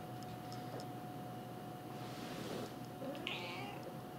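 A cat meows softly a few times indoors over a steady background hum, faint and close.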